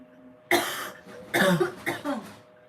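A cough up close, then a quick cluster of several more harsh coughs in a row, loud against a quiet background.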